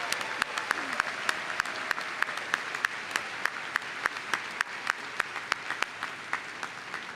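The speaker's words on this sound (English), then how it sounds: "join me in a round of applause for all of the folks who made today possible." Sustained applause from a university commencement audience at UW-Parkside, a dense wash of clapping punctuated by regular sharper claps standing out, steady and moderately loud throughout with no talk.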